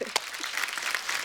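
Studio audience applause on a comedy talk show, a brief burst of dense clapping that fills the room and holds steady for just over a second.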